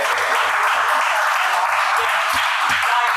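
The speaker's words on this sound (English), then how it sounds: "You can clap." An audience at a community author talk on birds claps in a brief, dense round of applause, with some low thumps beneath it.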